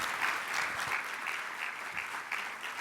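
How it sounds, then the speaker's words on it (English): A conference audience gives a steady round of applause at the closing session of a care-team coordination event, with dense, even clapping sustained throughout and no talk over it. "could we just have a big round of thank you and applause for them?"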